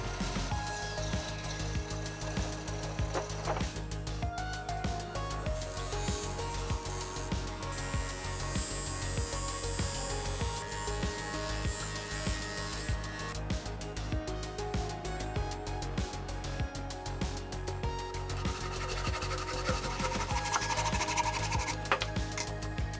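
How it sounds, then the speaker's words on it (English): Steady electric grinding of a steel Bowie knife blade after heat treatment in a workshop, a continuous harsh whir and rasp with shifting pressure that runs unbroken throughout. "I'm grinding it again quickly and getting it ready for the buffing wheel."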